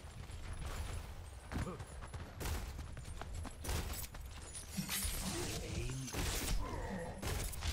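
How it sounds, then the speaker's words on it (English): Overwatch shotgun blasts punch out in a rapid series of sharp, loud bursts over busy game clatter and effects, with no talk. "he's shooting a shotgun and barely doing any damage"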